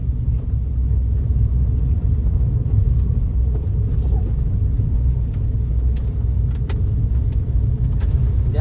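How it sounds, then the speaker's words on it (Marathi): A car driven during a driving lesson, with a loud, steady engine and road rumble up close and faint clicks and knocks on top, without talk. "द्या स्पीड थोडा गाडीला."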